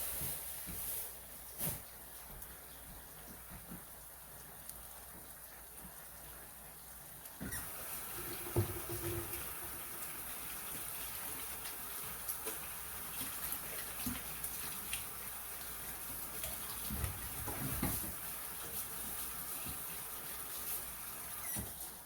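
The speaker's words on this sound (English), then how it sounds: "Y'all know I'm the wash hands lady all the time." Steady running tap water with hands being washed beneath it at a kitchen sink while spaghetti is being made, a continuous broadband wash with occasional splashy bumps, close and fairly quiet, no talking.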